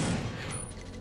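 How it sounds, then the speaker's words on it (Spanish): Gunfire from the video game Perfect Dark, a dense burst of shots and booms filling the whole second with a loud, sustained rumble and crackle. "¿Y será verdad que lo he matado de un disparo?"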